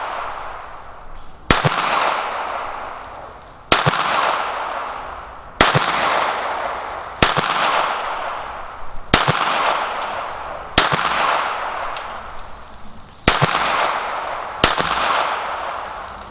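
Smith & Wesson Victory .22 pistol firing at targets outdoors, eight sharp single shots spaced about two seconds apart, each loud crack trailed by a short echoing decay.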